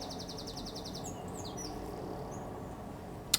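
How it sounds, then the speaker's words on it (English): Birds sing outdoors, with a quick run of repeated bright chirps followed by a few sliding whistled notes. The song is moderately faint over a steady background hum. "I've got the birds singing."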